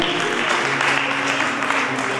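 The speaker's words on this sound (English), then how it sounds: "Give the Lord a clap offering for him." A church congregation claps together in steady, dense applause at close range, with a sustained hum of organ or keyboard tones underneath and no talking.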